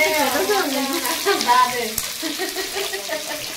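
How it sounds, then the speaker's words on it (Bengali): Onions frying in hot oil at the start of a home-cooked chicken curry, giving a steady sizzle throughout while a person talks over it. "পেঁয়াজ দিয়ে দিচ্ছি"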